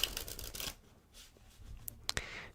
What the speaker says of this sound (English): I can have the spectators shuffle the deck if they want.